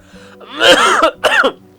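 Two harsh, close coughs, a longer one followed by a shorter one, with no talking.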